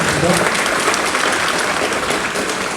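An audience claps together in sustained, fairly loud applause for a care-products presenter, holding steady, then fading slightly at the end.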